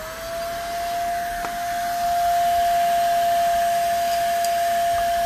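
A Simplicity Sport vacuum cleaner running with a hose attachment, a steady loud whine with a sharp tonal hum that rises slightly in pitch and volume partway through, alone without talking.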